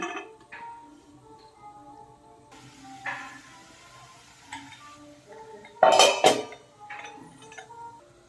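A pan lid is set over an aloo palya (potato curry) cooking on low flame, giving a sharp metallic clatter around six seconds amid softer kitchen clinks and light cookware knocks, with no talking.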